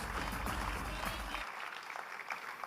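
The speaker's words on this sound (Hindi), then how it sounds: "मैं एक बार फिर चाहूंगा कि अपने लिए जोरदार तालियां बजाएं।" A crowd at an RCM business gathering claps for itself, producing a dense, steady burst of applause with a low hum beneath the first half.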